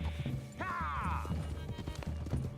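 A horse in Red Dead Redemption 2 clops along at a gallop, breaking into a loud rising neigh partway through; hoofbeats stay close and rhythmic throughout.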